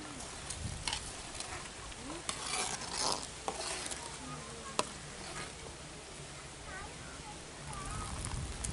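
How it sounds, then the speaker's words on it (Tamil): A pot of mutton intestine curry simmers with faint bubbling and soft crackles, quiet and close, with occasional light clinks. "குழம்பு நல்லா கொதிச்சிட்டு இருக்கு."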